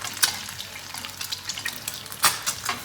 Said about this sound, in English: keep on pouring that hot oil over so it all bubbles up